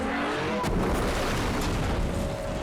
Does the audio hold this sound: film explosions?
yes